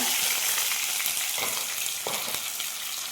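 Mustard seeds, green chilies and curry leaves frying in a hot pan for mango pickle, a loud, dense sizzle and crackle filling the whole stretch, with a few soft stirring knocks, close up and without talk.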